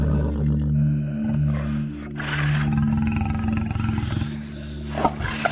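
A lion roars in a long, deep, rumbling series that swells and fades over several seconds, loud and close, with no voices.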